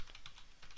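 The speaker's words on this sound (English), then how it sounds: "Now I start by typing ethanol fermentation" Quick, light keystrokes on a computer keyboard patter in an uneven run of soft clicks, close and quiet, with no speech over them.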